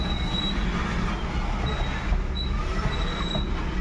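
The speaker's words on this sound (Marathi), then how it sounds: "नाही गेट पास करते गाडी" A train rumbles past a railway crossing gate, loud and close, with a continuous heavy low roar of wheels on rails and faint intermittent high squeals. No speech is heard.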